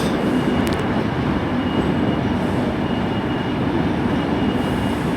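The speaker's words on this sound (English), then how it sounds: "391-34 is the unit for this Pendolino." A Pendolino train, unit 391-34, at Glasgow Central gives a loud, dense rumble of moving rail stock. There is a brief metallic squeal near the start, with no talk.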